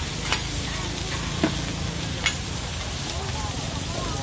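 An oyster omelette is stir-fried in a giant pan at a busy Nakhon Pathom shop: three sharp spatula clanks ring out over a constant sizzle and a low background rumble.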